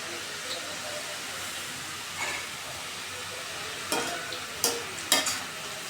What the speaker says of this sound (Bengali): এবার তেলটা কিন্তু গরম হয়ে এসেছিল, এবার তেলে ছেড়ে দিচ্ছি